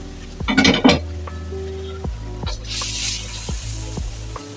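Ginger, garlic and Thai galangal drop into a pan for chicken fried rice, with a cluster of clinks and scrapes followed by a soft sizzle and a low hum underneath.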